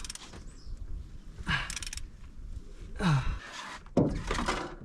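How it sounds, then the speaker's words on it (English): Cylinder head bolts are worked loose on a Toyota 2JZ-GE engine during a rebuild: irregular metallic clunks, creaks and ratcheting bursts of tool on bolt, close by, with occasional strained breathing. "we are taking the cylinder head bolts out"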